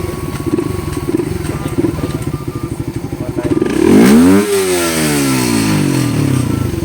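A remapped motorcycle on a dyno idles with a rapid, lumpy pulsing beat, then revs hard up to a loud, high scream before the engine note falls back while still running.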